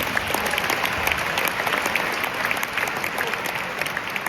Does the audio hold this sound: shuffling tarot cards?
no